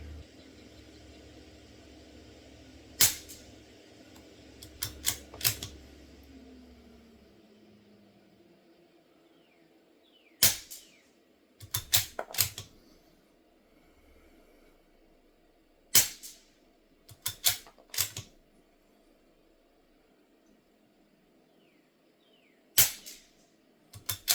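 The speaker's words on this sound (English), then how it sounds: "This is the SK match ammo, the 22 long rifle out of the Tikka T1X at 50 yards." Subsonic SK match .22 LR round-nose ammunition fired from a Tikka T1X rifle at a 50-yard range: sharp, brief cracks, single shots and quick clusters, with quiet pauses between, no talking.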